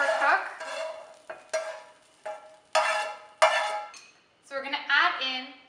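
Garlic and onion being lifted out of a sizzling pan over medium-low heat, a series of bright metallic clinks and scrapes of utensil against pan over a faint background sizzle, in short bursts separated by brief quiet gaps.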